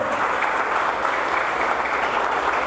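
A church congregation breaks into applause during a Portuguese-language Easter sermon, a dense, loud, continuous wash of clapping from many hands filling the space without pause.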